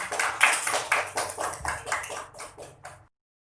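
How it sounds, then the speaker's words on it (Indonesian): Classmates in a school room give a short round of clapping, a rapid patter of hands lasting about three seconds before stopping abruptly into silence. "Bisa duduk kembali ya, beri tepuk tangan."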